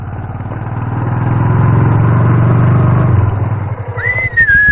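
A motorbike engine rumbles steadily nearby while riding, then drops away as the bike slows and stops, leaving a faint idle with light background noise.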